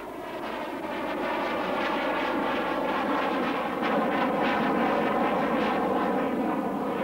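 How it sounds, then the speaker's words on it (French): A Dassault Rafale fighter jet prototype, the single-seat version, roars loudly and steadily overhead at the Le Bourget air show, a dense broadband jet rumble that swells slightly and holds without talk. "C'est le premier prototype de la série des 4 prototypes Rafale."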